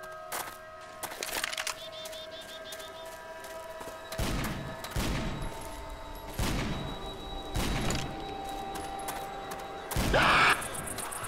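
Pipe bomb blowing up in Left 4 Dead 2 on a custom map, a series of heavy thumping blasts spaced a second or so apart amid game noise, ending in a louder burst.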